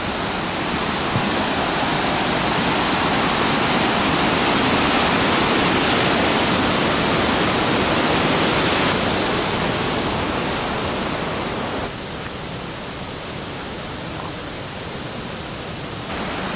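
A waterfall beside a forest hiking trail near Chamonix in the French Alps, heard as a steady, loud, close rushing roar of falling water that barely changes, with no voices.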